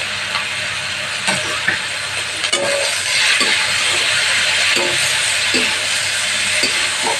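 Tomato, eggplant and green chili sizzling in a spice paste for sajna chochuri, a steady hiss lasting throughout at moderate level, with faint stirring taps and clinks of a utensil against the pan.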